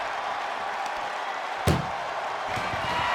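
An ambulance door slams shut once in the WWE 2K24 wrestling video game, a single sharp, loud thud midway through over a steady bed of arena crowd noise, followed by a fainter knock.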